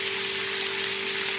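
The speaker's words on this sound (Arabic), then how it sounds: "ناخد كده بقى من الشوربه نحط على العيش" Hot soup is poured onto bread in a kitchen, a brief steady splashing pour with no talking.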